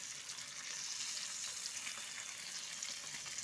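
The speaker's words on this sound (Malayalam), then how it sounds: "ഇതിനകത്തോട്ട് നമുക്ക് മീൻ മസാല പുരട്ടി പുരട്ടിയതെടുത്ത് വെക്കാം കുറച്ച് എണ്ണ ഇട്ടിട്ടുള്ളൂ" Masala-coated mackerel sizzles steadily in a shallow layer of oil, a dense, close, continuous crackle and spatter with no break and no voices.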